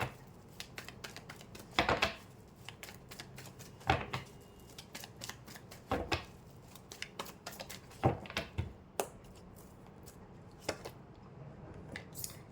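Tarot cards are drawn from a deck, making quiet, crisp paper snaps and clicks in small clusters with short pauses between, close by and with no talk over them.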